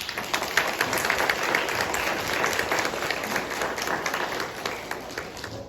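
A middle school audience applauds after a presentation, brisk, dense clapping from many hands with crisp individual claps standing out, continuing steadily for several seconds before easing slightly.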